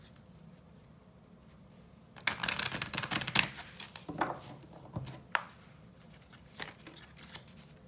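Tarot cards being shuffled close by, a dense papery riffling and slapping that starts after a quiet moment and continues in uneven bursts, with one brief spoken word.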